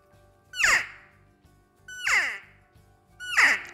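A diaphragm call imitates an elk cow, three high, squealing, bird-like chirps that drop in pitch, evenly spaced, close and alone against quiet.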